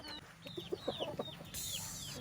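A black hen clucks in a short run of soft, quick clucks, with birds chirping faintly in the background.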